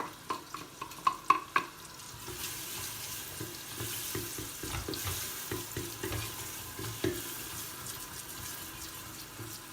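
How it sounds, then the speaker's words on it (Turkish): Chopped onion and minced meat sautéing together in a pan, with a few spoon taps at the start and then repeated stirring strokes over a soft, steady sizzle, close and fairly quiet. "Kıyma ile birlikte her ikisini biraz daha kavuracağım"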